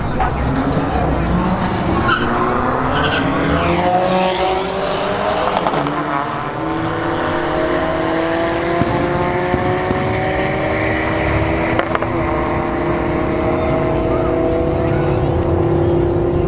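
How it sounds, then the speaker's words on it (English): A Hyundai Elantra N and a Honda Civic race side by side down a drag strip, engines roaring hard as they rise in pitch through the gears, with loud, continuous exhaust noise and a brief tire chirp; crowd and track ambience sit underneath. "we got tap out in the right lane, the Elantra N versus the Civic C here in the left lane"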